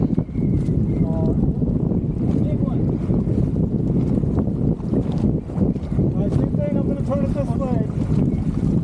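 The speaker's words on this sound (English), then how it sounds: "you can see my jib flapping" Jib of a sailboat flapping and luffing in strong wind on open water, a steady roar of wind buffeting the microphone with irregular fluttering snaps throughout, close and loud, with someone talking over it.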